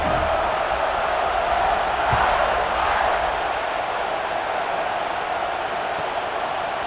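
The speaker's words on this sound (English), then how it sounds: "this crowd is buzzing after that last score" Football stadium crowd at a Notre Dame versus Penn State game, buzzing just before a kickoff: a loud, steady roar of many voices filling the whole stretch, with no single voice standing out.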